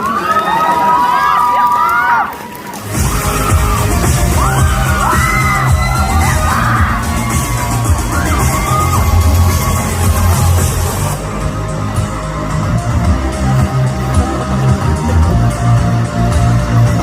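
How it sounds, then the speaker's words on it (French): A lively convention crowd at Geek Days 2024 erupts after a brief lull into loud, sustained cheering, whooping and shouts with clapping, the roar staying dense and close for the rest of the clip. "Merci d'applaudir Foscos."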